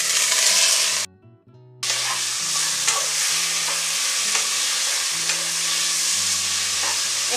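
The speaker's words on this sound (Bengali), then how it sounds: "একটু ভাজা ভাজা হয়ে যাক" Rice for khichdi fries and is stirred in a pot, giving a loud, steady sizzle with repeated scraping stir strokes close by. A brief quiet break interrupts the sound before it resumes, with no talking.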